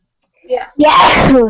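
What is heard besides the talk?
sneeze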